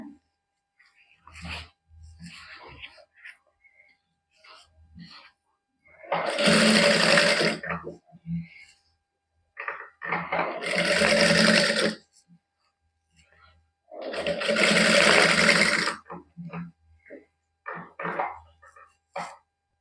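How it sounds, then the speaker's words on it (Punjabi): A sewing machine runs a loose basting stitch on a boutique neckline, three distinct bursts of a few seconds each, loud and close, with someone talking softly between the runs. "ਮੋਟਾ ਬਖਾ ਕਰਕੇ ਕੱਚੀ ਸਲਾਈ ਲਾ ਦਾਂਗੇ"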